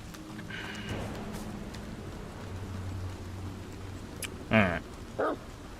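A dog in the video game Mask of the Medium gives two short, sharp barks near the end, heard over a low, steady ambient background with faint murmuring.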